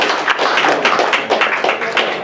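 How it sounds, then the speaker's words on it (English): A crowd at a Veterans Day gathering applauds a Marine veteran, steady dense clapping that holds at an even level throughout, fairly close and loud, with no voices over it. "he deserves a round of applause"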